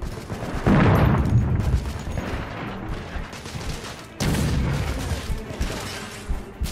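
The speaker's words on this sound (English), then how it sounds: "I am really sick of the bombs." Bombs blast in The Order: 1886 video game, two heavy booming explosions with rumbling gunfire-like crackle, loud and close, the second hitting about four seconds after the first, with no voices.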